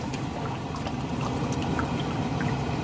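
Water pours steadily into a large pot, about 800 ml for abalone porridge, a continuous splashing rush that fills the whole stretch without pause.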